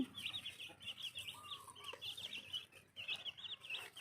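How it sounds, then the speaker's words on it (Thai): Backyard black chickens cluck in soft, repeated bursts close by, with high chirping bird calls running over them throughout. "ไก่ดำบ้านมุดเอง"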